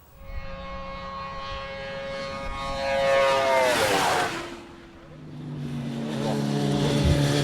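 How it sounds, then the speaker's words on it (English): A Suzuki GSX-R 600 motorcycle roars past on a top speed run, its engine whine climbing in pitch, then dropping as it passes and fades. A second rising tone follows. Loud and continuous. "He's just done his first ever top speed run on his GSXR 600."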